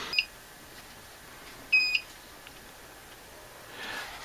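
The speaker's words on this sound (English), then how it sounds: "Okay, 4 beeps" A Night Owl CCTV DVR gives faint startup beeps: one short chirp, then a paired beep a moment later, over low background hiss.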